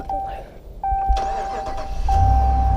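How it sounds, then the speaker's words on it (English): A 2016 Ram 1500 pickup's engine cranks and fires up after a short pause, then settles into a steady idle rumble with a faint tonal whine over it, heard close with light talk at the start. "Let me start the truck up, see how she starts."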